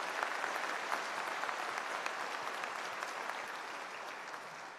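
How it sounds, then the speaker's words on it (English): Steady applause from a seated audience fills a concert hall at a university convocation ceremony, a dense even wash of clapping with no talk over it. "join me in a big round of applause for 34 years"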